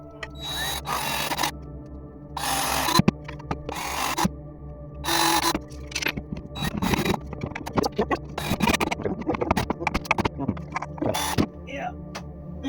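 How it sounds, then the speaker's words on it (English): A drill countersinks a screw hole in cedar wood in short, separate bursts of whirring and scraping, with quieter tool handling between them. "gonna countersink that one just a little deeper"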